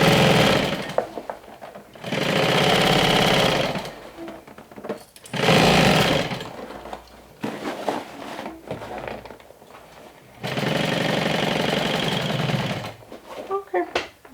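A sewing machine stitching a medium crossbody tote bag, three loud sustained runs of fast mechanical whirring separated by pauses, with a person talking in the gaps.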